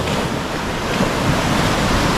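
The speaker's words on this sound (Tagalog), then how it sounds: "Naanlug-anlug ang alon oh." Ocean surf surges continuously and loudly at a seaside spot in the Philippines, a dense roar of breaking waves mixed with heavy wind buffeting the microphone.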